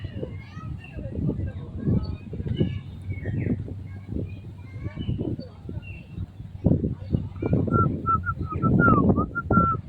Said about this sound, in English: See those birds chirping in the background somewhere.